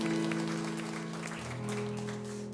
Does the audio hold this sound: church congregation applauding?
yes